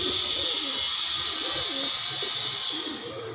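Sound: pigeons cooing

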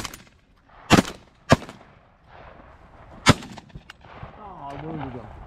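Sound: gunshots at geese during a goose hunt

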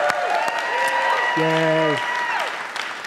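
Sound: congregation clapping

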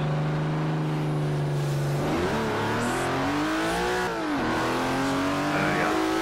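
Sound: car engine revving while driving in Forza Horizon 4 video game

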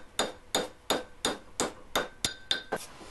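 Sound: hammering a wooden dowel through a dowel plate

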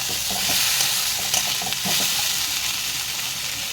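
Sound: tomato and spices frying and being stirred in a pan

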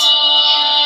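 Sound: phone ringing

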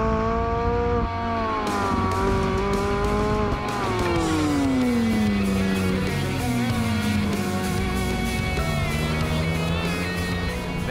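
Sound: McLaren 675LT Spider engine echoing off rock walls

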